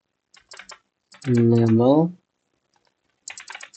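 Short bursts of typing on a computer keyboard while configuring a switch, clicking in quick clusters at the start and end, with a loud voiced stretch in the middle.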